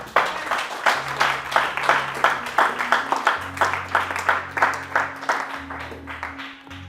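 A church congregation applauding the Lord with steady, rhythmic clapping, loud and continuous over a sustained low organ or keyboard drone.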